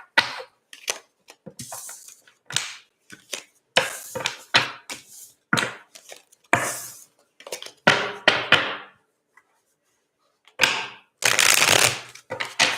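Tarot cards shuffled and drawn by hand during a Blood Moon reading, a run of crisp riffling bursts and soft slaps in uneven clusters, close and fairly loud, with short quiet gaps between handfuls and no talk.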